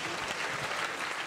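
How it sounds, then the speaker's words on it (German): An audience at a poetry slam breaks into dense, continuous applause, loud and close for the whole short stretch. "Einen netten Applaus für Katja Hofmann."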